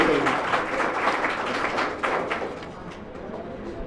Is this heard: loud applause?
yes